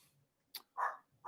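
A dog barks twice in short, sharp bursts close by, with a faint yip just before, in an otherwise quiet room.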